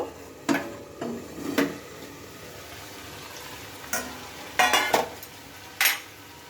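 Pumpkin and chickpeas cooking under a lid with no water or spices, a faint low simmer broken by a few sharp clinks and knocks of a lid or utensil against the pan.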